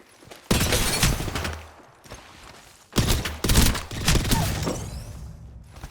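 Gunfire in a shooter video game, loud bursts of shots in two clusters with short gaps, close and punchy, no talk over them.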